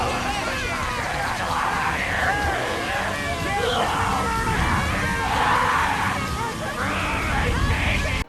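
A mutant killer snowman from the 1997 film Jack Frost screams in pain while being forced into a furnace, with loud distorted yelling set over a rumbling, churning movie soundtrack.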